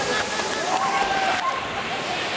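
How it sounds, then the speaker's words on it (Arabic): Water rushes and splashes steadily at a waterfall in Salalah, Oman, a continuous broad roar close to the listener, while a voice briefly speaks over it. "باي شلال"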